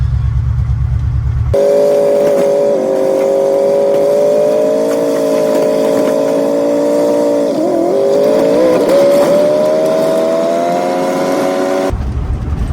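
Old square-body 4x4 shortbed pickup truck driving, a loud steady engine drone heard from inside the cab with whining gear tones that shift slightly in pitch as speed changes, no talking.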